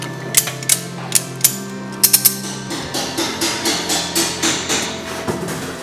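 A car is jacked up for a 426 crate engine install, a mechanical jack giving a series of crisp ratcheting clicks followed by evenly spaced pumping strokes, close and loud, with no talking.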